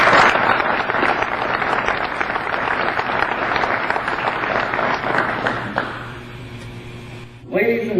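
An audience at a military retirement ceremony claps to welcome distinguished guests, a dense, loud round of applause that sustains for several seconds before tapering off, with a brief sound at the very end.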